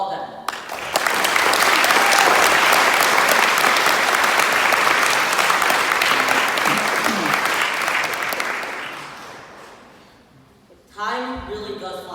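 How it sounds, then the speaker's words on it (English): Audience at an 8th grade graduation ceremony breaking into loud sustained applause that swells, holds for several seconds, then fades, followed by a speaker talking. "Can we have one big round of applause for all of them?"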